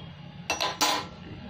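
A wok being set down on the stove, two quick metallic clanks close together against a quiet room background.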